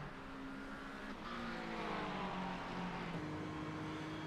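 In-car engine note of a GT race car at Watkins Glen in a sim racing game, a steady whining drone with pitch rising and dropping through shifts and lifts, continuous and close.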